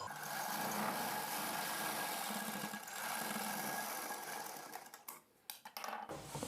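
A sewing machine stitching a blouse seam, running in a steady whirring stretch and then stopping and starting in short bursts at the close.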